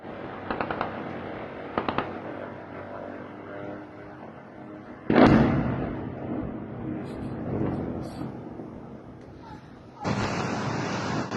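Blasts ring out as a factory explodes in wartime Russia, a series of distant cracks and pops followed by a louder sudden boom around the middle and another burst near the end, with a voice faintly present.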